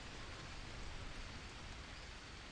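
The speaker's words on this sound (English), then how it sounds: "Looks like the rain is easing off" Rain falls in the jungle survival game Green Hell, a soft, continuous wash of drops with a faint hiss, steady and fairly quiet throughout.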